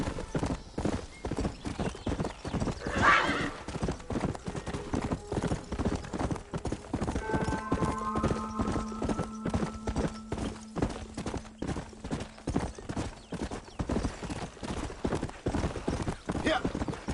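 Horses galloping in the Red Dead Redemption video game, a fast continuous clip-clop of hooves close by throughout, with a brief neigh, a sustained musical tone midway and occasional character voices.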